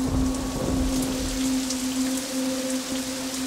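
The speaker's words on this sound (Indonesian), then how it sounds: "Saat itu, hujan turun tiba-tiba sekali." Heavy rain pours down steadily at night on a mountain, a dense, loud, continuous wash of drops with no talk.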